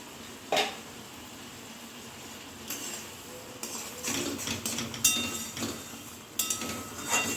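A spoon stirs fried spice into a white urad lentil dish in a metal pot, giving scattered scrapes and clinks against the pot over a quiet background.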